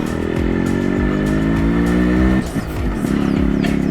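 A motorcycle engine idles and revs steadily, loud and close, while the bike crosses a hanging bridge on a trail ride, with a brief dip and rattle partway through before it settles back to a steady drone.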